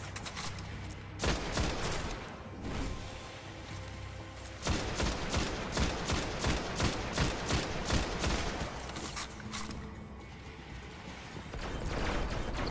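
Gunfire in Destiny during a co-op fight at the Shrine of Oryx: rapid bursts of shots, loud and close, in several fast runs with brief lulls between them.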